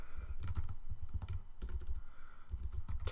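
Rapid keystrokes on a computer keyboard, close and continuous, with quick bursts of clacking and brief pauses between words.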